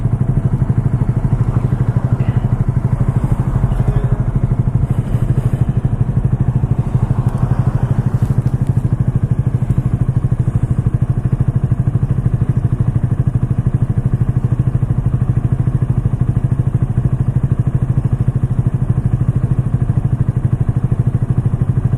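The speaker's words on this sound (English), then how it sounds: "So initial first impressions of the Grom are, it's actually a little bit torquier than I was expecting for a 125cc bike." A Honda Grom 125cc motorcycle engine runs steadily and loudly up close, a continuous low throbbing drone with a faint rattly edge that holds for over twenty seconds with no talking.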